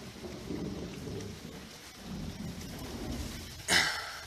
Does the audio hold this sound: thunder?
yes